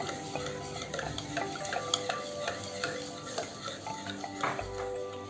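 Sugar is stirred by hand into coffee chocolate cake batter, a continuous scraping and tapping of a spoon against a bowl in a quick, even rhythm at close range.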